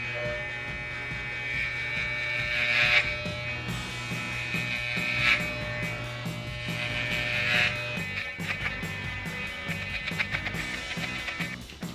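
Electric hair clippers fitted with a 2 guard buzz steadily through hair at the back of the head, a continuous close hum with brief swells as the blades sweep, set against a faint steady background tone.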